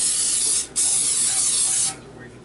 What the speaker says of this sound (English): I wanted to spray this.